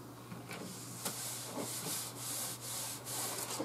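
Material is smoothed by hand onto a cutting mat for a ScanNCut machine, making a soft, steady rubbing and swishing close by with faint rhythmic strokes and no talk.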